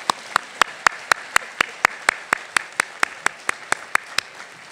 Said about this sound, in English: Let's give Dr. Biden another round of applause.